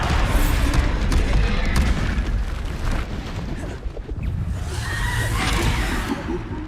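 Bombarda explosion spells going off in Hogwarts Legacy as a dense, continuous roar of blasts and whooshes, loud and close, with a voice talking over the action.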